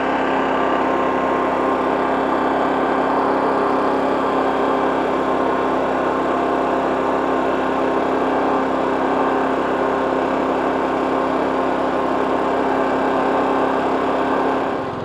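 A GenMax 10500XiT generator engine runs at high idle, a loud, steady, even drone with a constant hum that holds without change throughout, alone with no voices.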